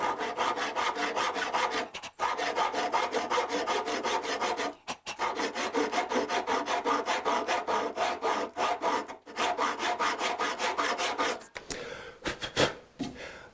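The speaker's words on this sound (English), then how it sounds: "I'm just going to slowly track backwards, bringing the saw down and blowing the sawdust out of the way" A hand saw crosscuts a piece of wood in a fast, regular rhythm of rasping strokes, close and loud, with a few brief pauses before the cut slows and ends.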